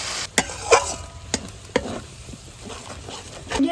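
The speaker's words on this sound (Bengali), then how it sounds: "জল দিয়ে এবার নাড়িয়ে দিচ্ছি।" A spoon stirs spiced corn masala with added water in a pan, giving several close scraping clinks over a soft steady sizzle, with no voices.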